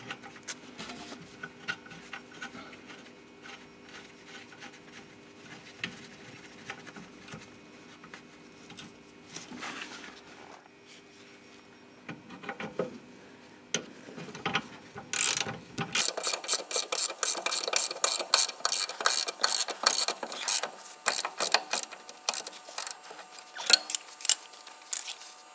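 A bolt and nut being fitted on a Peugeot 307 rear shock absorber, with close metallic clicks and a run of rapid ratcheting taps, louder in the second half, no talking.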